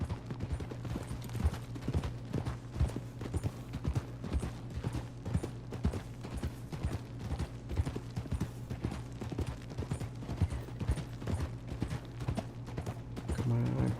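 Horse hooves clip-clop in Red Dead Redemption 2, a steady rhythmic trot of close, repeated thuds over a low constant game hum lasting the whole stretch.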